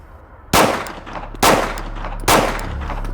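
Three loud, close 9mm gunshots from Federal HST 124 grain ammunition ring out alone, evenly spaced about a second apart, each a sharp blast with a short ringing decay.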